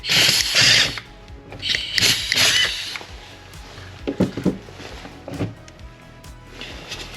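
A pneumatic rivnut tool sets an M6 rivnut in thin sheet metal, giving several sharp bursts of air hiss and mechanical clicks with quieter ratcheting between them, close by, with no talk.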